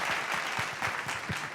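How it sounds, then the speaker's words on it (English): A short burst of audience applause at a residential property expo panel discussion, steady, fairly close clapping from a modest crowd, sustained evenly and alone. "that calls for a round of applause, please,"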